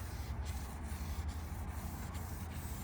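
Boat hull being wet sanded by hand with soapy 800-grit sandpaper, a steady close scrubbing hiss with faint rhythmic side-to-side strokes over a low rumble, no talking.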